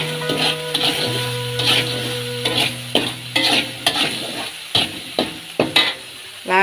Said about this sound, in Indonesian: Kita goreng sampai wangi.